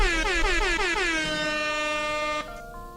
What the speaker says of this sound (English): We're going to serenade you to sleep with the sound of the air horn.